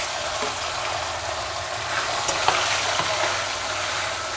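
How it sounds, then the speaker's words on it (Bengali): Amudi fish rubbed with salt and turmeric fry in a pan with dried red chillies, giving a loud, steady sizzle close by. A few light stirring taps sound over it, with no one speaking. "মাছগুলো কিন্তু আমি খুব বেশি ভাজবো না, একদম সামান্য"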